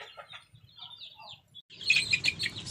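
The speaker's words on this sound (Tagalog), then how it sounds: "ito ngayon yung kulungan ng aking mga manok" Chickens in a muddy backyard coop give short, scattered clucks and chirps that are soft at first, then turn into a louder, denser burst of calls near the end.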